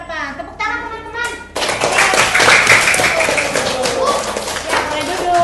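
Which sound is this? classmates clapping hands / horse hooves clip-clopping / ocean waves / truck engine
classmates clapping hands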